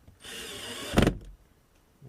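A Hyundai i40 (2012) door panel being worked on during a lock repair, with a steady mechanical whir followed by a short loud clunk and rattle, close by.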